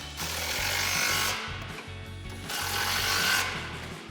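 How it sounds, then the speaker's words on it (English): Ratcheting socket wrench tightening two 13mm bolts on the exhaust hanger brackets of a Mustang EcoBoost, a close, rapid clicking burst, a short pause, then a second burst. "tighten down our two 13mm bolts for our hanger brackets with our 13mm socket"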